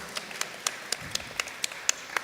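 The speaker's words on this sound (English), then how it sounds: "clap it up" An audience claps lightly and sparsely at a clean energy career panel, with distinct separate claps at a steady pace, faint and somewhat distant.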